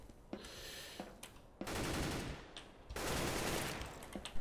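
Gunfire in the video game Counter-Strike: Global Offensive, with a few sharp single shots followed by two long sustained bursts of automatic fire, fairly close and unaccompanied by talk.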